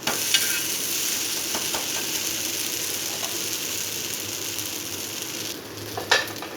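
Onion uthappam dosa sizzles steadily in oil on a hot pan, a loud continuous frying hiss with a brief scrape near the end as it is flipped.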